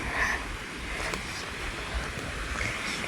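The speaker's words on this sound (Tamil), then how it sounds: "நல்லா சூப்பராக சவுண்டு கேட்குது," Water rushing steadily in the outdoors on a weekend ride out of Bangalore, a broad, even wash of noise with a little wind buffeting the microphone and no talk.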